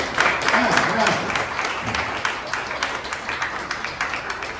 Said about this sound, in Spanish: ¿Van a aplaudir o no van a aplaudir?